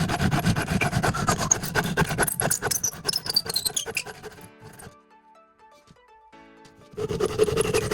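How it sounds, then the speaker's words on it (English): Handsaw strokes rasp steadily through the edge of a scrap wood board, a dense scraping rhythm for a few seconds, then a quieter pause with faint clinks before the rubbing sawing resumes loudly. "And then we are sawing off these 2 little edge pieces."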